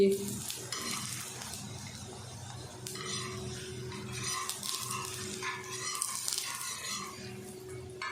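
Missi roti cooking on a ghee-coated griddle gives a steady sizzle, with scraping and turning clatter from a utensil across the whole stretch, and a low hum underneath.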